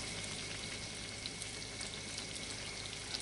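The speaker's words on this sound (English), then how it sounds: "And into the pan it goes. Now it's frying." Floured salmon cakes fry in a hot pan, producing a continuous, dense crackling sizzle at a steady, fairly quiet level with no voices.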